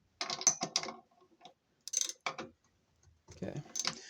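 Bolts are tightened on the stator of an LG washer, heard as close bursts of ratchet clicks in three separate spells with quiet gaps between them.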